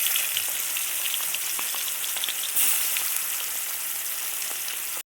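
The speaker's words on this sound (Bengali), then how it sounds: "তেলের মধ্যেই মাংসগুলো ভেজে নেব সব।" Pieces of meat for biryani fry in hot oil in a pan, a steady hissing sizzle with scattered crackles and pops, close by and continuous until it cuts off abruptly at the end, with no talk.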